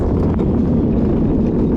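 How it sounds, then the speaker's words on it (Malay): Strong wind buffeting a microphone on a Skyline Luge KL track, a loud, steady low roar with rumbling gusts and no talk. "Angin kuat."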